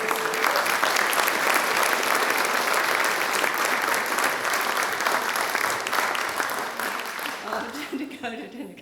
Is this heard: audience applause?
yes